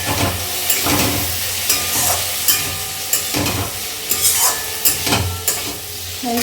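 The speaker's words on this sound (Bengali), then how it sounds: "আলু ভাজা বসেছে" Sliced potatoes fry in oil in a pan with a loud, steady sizzle. Periodic stirring scrapes and clatters rise above it, and no one speaks.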